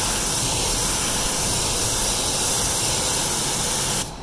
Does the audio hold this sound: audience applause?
no